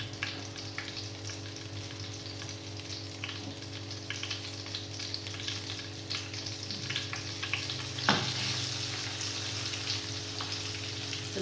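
Stuffed tilapia fries in hot oil with a steady, dense sizzle, crackling and spitting throughout over a low background hum.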